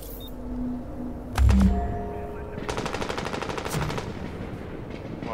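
Gunfire in The Division video game during a Dark Zone manhunt: a loud nearby blast, then a rapid automatic burst rattling on for a couple of seconds amid game noise.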